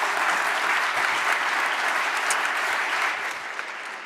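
A big round of applause from the audience at a community town talk on Black wealth in Minnesota, dense, loud continuous clapping that tapers slightly near the end.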